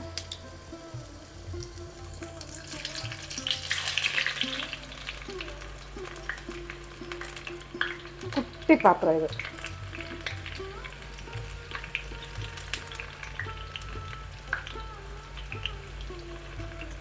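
Small shallots sizzle in hot oil in a pan for a curry tempering with mustard seeds and dried chillies, a steady close frying hiss with scattered pops and occasional utensil scrapes, while a person talks briefly.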